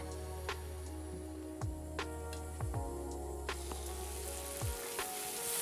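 Onions and tomatoes softening in a pan while cooking kinema, a fermented soybean dish: a quiet, steady sizzle with scattered soft pops and crackles, heard alone at low volume.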